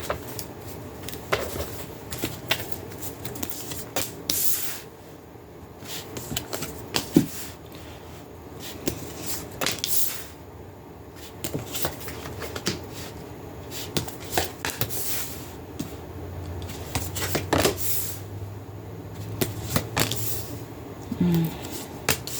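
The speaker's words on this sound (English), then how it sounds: "We'll cut the deck." A tarot deck being shuffled and cut by hand, giving soft, irregular riffles and card slaps close up over a quiet room, with no talking.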